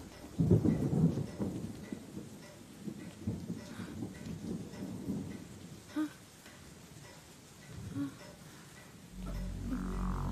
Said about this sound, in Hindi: लगता बहुत बारिश हुई है, घर के अंदर पानी आ गया है।